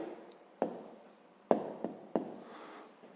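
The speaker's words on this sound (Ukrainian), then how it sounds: "Записуємо відповідь." A pen or pencil writes an answer to a fifth-grade math exercise on paper, a soft close scratching broken by several light taps as strokes begin, with no speech.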